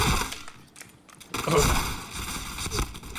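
Gunfire in a video game, with several sharp close bursts and impacts breaking up a brief quiet stretch, then dense clattering shots and game effects.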